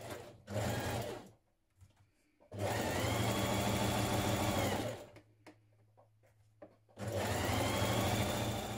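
A sewing machine stitches a 1.5 cm seam on a sweater in three loud, close bursts of steady whirring, with short quiet gaps between them.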